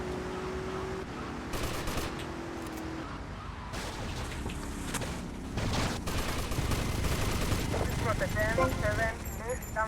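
Rapid minigun fire in GTA mixed into a dense, continuous game soundscape with vehicles and traffic, loud and sustained throughout, with someone talking over it.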